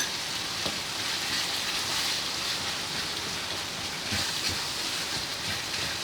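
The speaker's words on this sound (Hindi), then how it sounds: "तो अच्छे से भून लेंगे।" Ground keema cooked with achari masala and chaat masala sizzles and fries steadily in a karahi over raised heat, a continuous hissing crackle that sounds almost like rain, with occasional faint stirring knocks.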